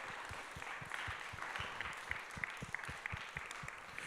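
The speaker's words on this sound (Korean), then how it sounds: "정말 고생하셨다고 박수 한번 쳐주시면 좋을 것 같습니다." A church youth-service congregation gives a round of applause, faint and distant, with separate claps landing in a loose rhythm over a soft room murmur.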